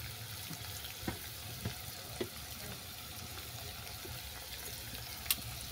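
Chopped onion, green chillies and mixed vegetables fry softly in a pan, a low steady sizzle broken by a few light clinks of stirring.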